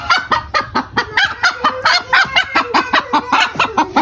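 A hen gives a loud, rapid run of repeated clucks and squawks close by after laying an egg, a steady pulsing cackle with no talk over it.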